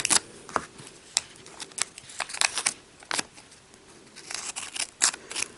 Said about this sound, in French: je vais rajouter encore un peu de scotch